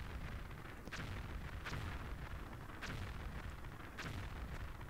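Repeated booming video game explosions in Tomb Raider 5 rumble through a dense, continuous wall of low noise, with sharp bursts recurring roughly every second or so.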